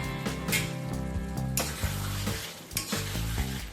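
Chal potol curry with garam masala and slit green chilies is stirred in a sizzling pan, a spoon scraping and clinking against the metal in quick repeated strokes, close and loud over steady frying.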